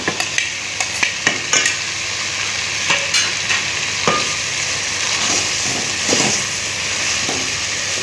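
Onions, green garlic and green chillies sizzle steadily in a hot pan, with sharp clicks and scrapes from stirring scattered through a constant close hiss; no one speaks.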